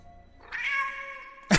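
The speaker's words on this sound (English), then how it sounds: "I'm merely demonstrating that this shows the cat's meow" A single cat meow sound effect played from a soundboard, a clear, drawn-out mew that swells and fades, cut off by a short loud burst at the end.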